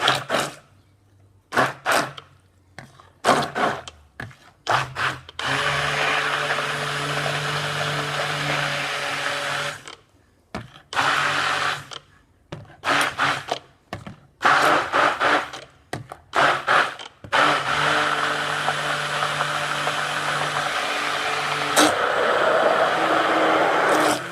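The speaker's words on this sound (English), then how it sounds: "We're going to pulsate it now with the hand blender." A hand blender whirs through tomato sauce in repeated bursts, short pulses at first and then longer stretches, each starting and stopping abruptly with quiet gaps between.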